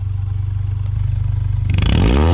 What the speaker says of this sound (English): Can you hit the throttle a little bit?